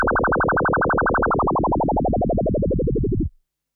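Synth tone with a sine-like timbre wobbling under a fast LFO pitch effect, in a house and techno production setting; a steady rapid pulsing warble that gradually slows and drops in pitch before cutting off abruptly, heard alone.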